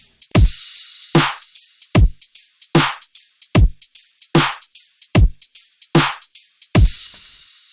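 Electronic drum loop with hi-hats, crashes and top drums layered together, playing in a steady repeating pattern of about nine punchy hits with bright cymbal wash between them, alone and loud.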